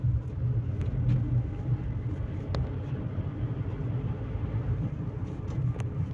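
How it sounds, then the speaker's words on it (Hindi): A Tata Punch fitted with a throttle controller revs hard in first gear in race mode, a steady low engine rumble and drone holding loud and close for several seconds with no voices over it. "आवाज़ देख लो गाड़ी की"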